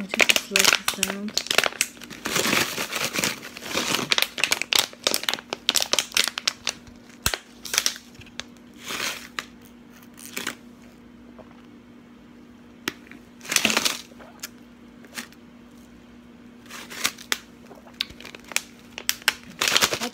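Ice cubes crunched between the teeth during a close-miked ASMR eating session with icy cold water, heard as irregular, crisp cracking bursts separated by short quiet gaps.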